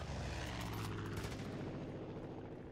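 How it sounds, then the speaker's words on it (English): Helicopter flying in a video game, a loud, close rotor drone with a low throbbing beat, steady throughout with possible gunfire crackling over it. "Let's find a way to get this helicopter out of the air."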